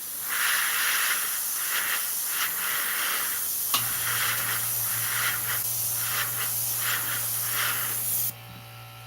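An airbrush with a worn nozzle that needs replacing sprays in a steady, close hiss that pulses repeatedly. A low hum from the compressor joins partway through, and the spray cuts off near the end.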